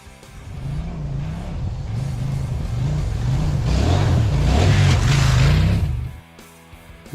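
A CFMOTO 800 MTX motorcycle ridden over a rough, bumpy trail, its engine droning steadily with rising and falling revs and a wash of wind and road noise, then cutting off abruptly near the end.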